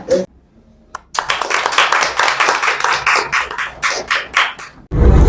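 A studio audience at a property question-and-answer show claps to welcome the company CEO: a burst of many hands starting after a brief quiet, sharp claps ringing for about four seconds before stopping abruptly.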